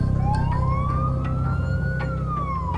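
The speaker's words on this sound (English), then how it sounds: "Driving to hospital, lights and sirens with a critical patient in the back" An ambulance races to hospital with lights and sirens on, its wailing tone sliding slowly up and back down over a constant heavy engine rumble, heard from close by.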